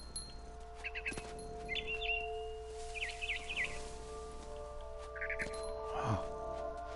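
Barn swallow chirping from What Remains of Edith Finch comes in several short, quick twittering bursts spread through a quiet scene, fairly faint over a low steady hum, with light rustling and a soft swoosh near the end.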